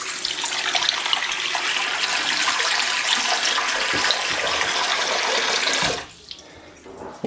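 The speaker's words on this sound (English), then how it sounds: "run the water" Tap water pours steadily into a typical bathroom basin with a slow-draining waste trap, a close, even hiss and splash that runs for about six seconds before cutting off, followed by quieter drips and movement.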